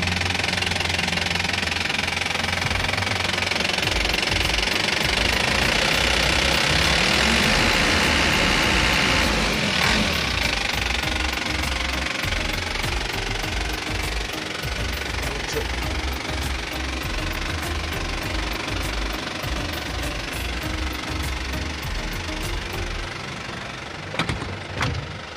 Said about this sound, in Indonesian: Kondisi mesin